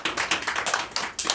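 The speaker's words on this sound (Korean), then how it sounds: "우리 하나님 앞에 영광의 박수 돌리겠습니다" Church congregation clapping in a short burst of applause, a dense patter of hand claps at moderate volume with no talk over it.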